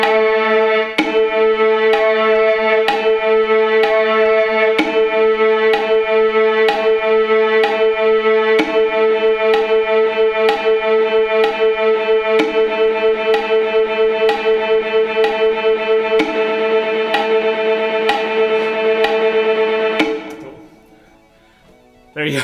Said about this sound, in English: There's my little EDM song.